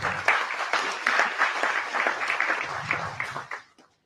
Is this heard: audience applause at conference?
yes